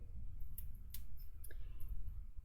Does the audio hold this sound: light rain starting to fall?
no